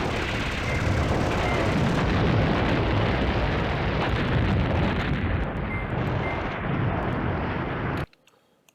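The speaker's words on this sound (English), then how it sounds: "We need these airstrikes." Airstrike explosions from the Command Ops 2 war game, a dense, continuous roar of rumbling blasts and gunfire that holds loud for about eight seconds and then cuts off abruptly to near silence.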